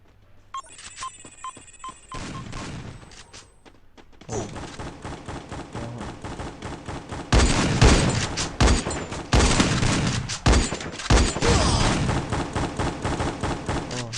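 Rapid bursts of Free Fire mobile game gunfire crackle through the whole stretch, growing denser and louder in the second half, with electronic beeps and tones early on.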